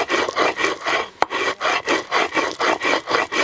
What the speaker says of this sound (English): I love the sound of that rock on rock, but then with the squishing sound of those chilies in between the rocks